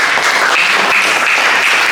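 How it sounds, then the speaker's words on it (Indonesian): Classroom applause breaks out for a student presenter, a dense, even burst of many hands clapping close by that holds steady for about two seconds with no voices. "Kita beri tepuk tangan juga buat Mas Fidansa."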